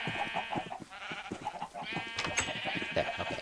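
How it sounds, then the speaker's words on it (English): Sheep in the Minecraft video game bleat repeatedly in a busy stream of overlapping game bleats and clicks, fairly loud and close, with no talk over them. "We're going to bring some sheep over and see if we can't get them in."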